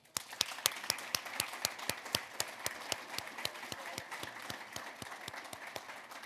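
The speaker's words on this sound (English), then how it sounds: "please join me in a round of applause for all these wonderful people" Midshipmen applauding honorees at an ethics awards dinner, a fairly sparse, rhythmic run of individual claps close by, moderately quiet and with no talk.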